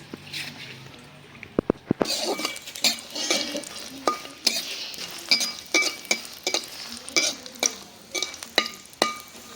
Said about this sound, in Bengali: মরিচগুলি মশমশা করে ভাজবো।